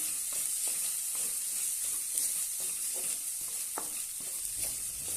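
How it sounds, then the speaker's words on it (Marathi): Barnyard millet roasting in ghee gives a continuous bright sizzle with soft, regular scraping as a spoon stirs the grains through the pan. "छानपैकी आपण तुपामध्ये भाजून घेऊया"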